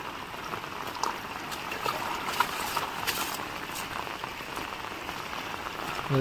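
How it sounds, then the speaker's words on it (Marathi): Steady rushing water, a stream fed by a small waterfall flowing over rocks with constant splashing and gurgling, fairly near and unbroken throughout. "ते छोटा वॉटरफॉल जो आपण बघितला तेच पाणी जातं आहे"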